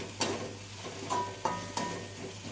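A spoon stirs sautéed spices with bay and lime leaves in a pan, a few sharp scrapes and knocks spaced across a low, steady sizzle, close and fairly quiet.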